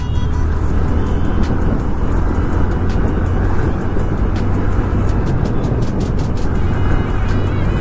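Dense road traffic roars on a busy street, with a continuous loud blend of engines and tire noise from vehicles close by, plus a few brief sharp clicks scattered through.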